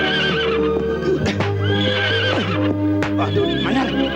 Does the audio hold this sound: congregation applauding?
no